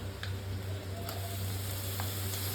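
Tomatoes frying in butter in a pan, a soft, continuous sizzle with occasional faint clicks and a low steady hum underneath, no talking.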